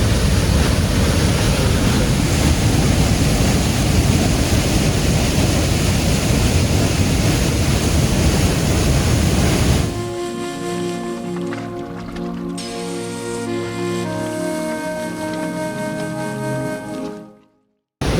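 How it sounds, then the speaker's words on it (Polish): Kozjak waterfall in the Soča valley, Slovenia, roars with loud, dense rushing water for about ten seconds, then the sound drops to a quieter, more distant wash with brief tonal noises before cutting out. "Przed głównym wodospadem mamy najpierw mały Kozjak, a ten też już robi wrażenie."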